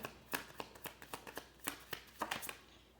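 Tarot cards being shuffled by hand in a series of crisp, riffling bursts and soft slaps, close and fairly quiet, with no voices.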